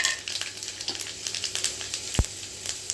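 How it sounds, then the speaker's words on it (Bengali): Five-spice seeds and two dried chillies sizzle and crackle in hot oil left from frying potatoes, a dense close hiss with small pops and one sharp clink of a utensil. "আলু ভাজা তেলের মধ্যে আমি ফোড়ন দিয়ে দেবো। ছোটো চামচের 1 চামচ 5 ফোড়ন নিয়েছি আর 2 শুকনো লঙ্কা।"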